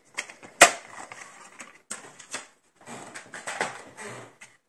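Paper being folded and creased for a handmade mini album, with a sharp snap early on and then bursts of crisp rustling and scraping at close range, each separated by short pauses.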